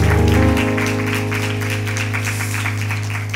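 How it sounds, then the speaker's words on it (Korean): A church congregation at a Sunday afternoon worship service claps steadily for several seconds while sustained keyboard chords ring underneath. "은혜 주실 우리 하나님께 영광의 박수 드립니다"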